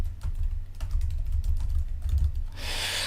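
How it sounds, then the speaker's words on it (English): A file path tapped out on a computer keyboard, quick light keystrokes in an uneven stream, close and clear over a low hum, ending in a brief hiss. "So I'll just type that path in here."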